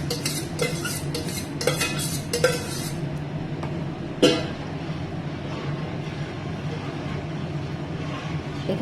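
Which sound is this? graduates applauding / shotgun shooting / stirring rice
stirring rice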